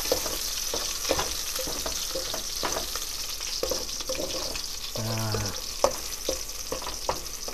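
Birds fry in hot oil and are stirred in a pan for a Lao-style dish with garlic, giving a continuous close sizzle broken by scraping stir strokes, and a brief tonal clatter midway.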